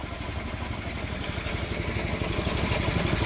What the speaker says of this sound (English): that little air compressor is awesome